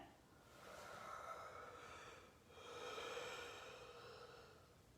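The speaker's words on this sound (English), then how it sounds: "Excuse me, that yawn had to come out." A person yawns during a guided stretching and meditation session: a long, breathy, drawn-out exhale rising and falling in two close swells, soft and near, with no talking.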